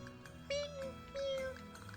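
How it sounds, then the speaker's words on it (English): A cat in the video game Xenogears gives two short, faint meows, one after the other, over a continuous soft background music bed. "Kitty cat."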